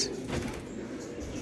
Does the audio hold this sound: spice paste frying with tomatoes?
no